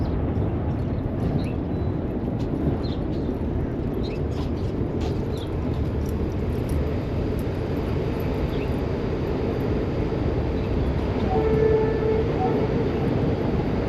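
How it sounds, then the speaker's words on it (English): A subway train rumbles along elevated tracks in the Melrose area of the South Bronx, a steady low roar that fills the whole stretch with a faint squeal near the end. "There's the train going through the North Metro."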